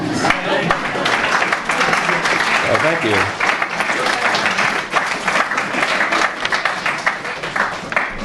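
An audience at a fiction reading applauds at the end of a story, sustained lively clapping throughout, with a voice briefly speaking partway through over the applause.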